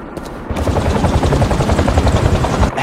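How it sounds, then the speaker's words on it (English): Helicopter in a Spider-Man video game, rapid pulsing thump of rotor blades, loud and close, starting abruptly after a brief lead-in and holding steady before cutting off. "a helicopter's blades"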